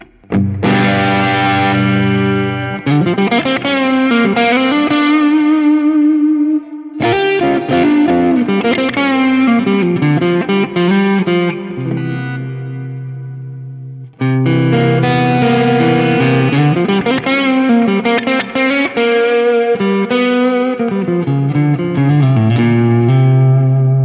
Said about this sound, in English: Chief BD2, which is the blues driver